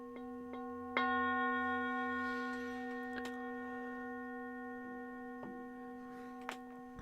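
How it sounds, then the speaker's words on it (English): Koshi chimes ring out with a bright metallic strike followed by long sustained shimmering tones that slowly fade, with a few softer later strikes, in a quiet meditative setting. "Listening to our beautiful Koshi chimes"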